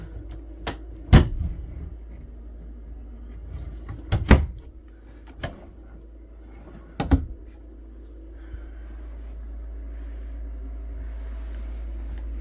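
Drawers and cupboard doors in a 2024 Grand Design Imagine 22RBE travel trailer opening and closing, with several sharp knocks and clacks spaced a few seconds apart in a quiet interior, fading to a low hum.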